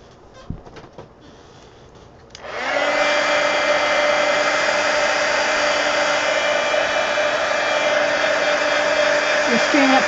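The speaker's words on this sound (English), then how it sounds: "Let me dry this." Hair dryer switched on to dry artwork, its loud, steady whirring blow starting after a couple of seconds of near quiet with a small click and then running on without a break, close by.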